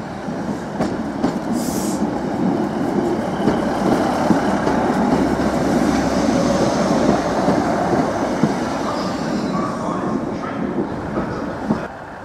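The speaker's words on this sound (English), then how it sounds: "we've got another 156 unit now, arriving into platform 4" British Rail Class 156 diesel multiple unit pulling into a platform at Norwich station, a steady rumbling rolling roar with faint wheel clatter and a brief high squeal near the start, sustained and fairly close throughout.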